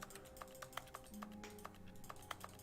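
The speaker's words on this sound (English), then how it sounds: "Whenever I interact with nothing, it presses a keyboard sound." Repeated keyboard key clicks from The Stanley Parable Ultra Deluxe, a quiet, irregular run of about a dozen crisp taps over a soft steady background hum.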